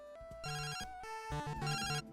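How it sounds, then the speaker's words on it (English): Eerie phone ringing in the Glitch City out-of-bounds location of a video game: several bright, electronic ring bursts in quick succession, clear and close, with no voices. "eerily you'll hear a phone ring"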